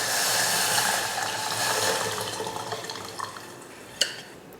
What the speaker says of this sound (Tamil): இப்போ புளி தண்ணியை ஊற்றிடலாம்.